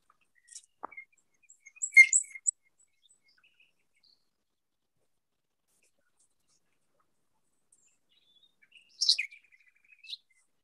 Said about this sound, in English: I was listening to nightingales myself